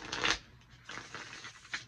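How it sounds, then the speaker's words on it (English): Someone shuffles a deck of tarot cards by hand, producing a quick papery riffle burst followed by softer, scattered card rustles, close and fairly quiet. "Let's shuffle this deck a little bit more"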